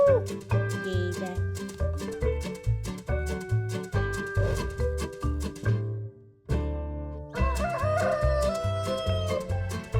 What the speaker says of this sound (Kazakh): Бұл әтеш.